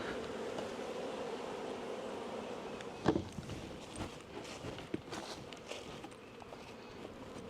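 Honey bees hum steadily around an open hive while supers are being handled, a close, continuous drone broken by a few soft knocks and thuds.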